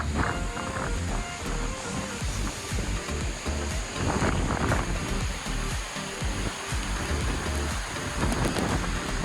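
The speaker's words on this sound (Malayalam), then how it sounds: "നല്ല ഹെവി, നല്ല കിടിലം വെള്ളച്ചാട്ടം." Heavy water pours down at Kattikkayam Falls, a steady, dense roar that fills the scene without pause, with no voices over it.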